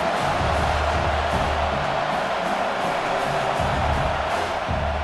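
A stadium crowd at a football game roars in a dense, steady wash of cheering and noise during a third-down red zone play, loud and continuous with no clear single voices.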